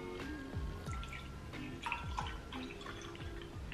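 Water is poured into a small amount of concentrated syrup, giving a close, trickling liquid sound with small drips and splashes lasting a few seconds, with no talking.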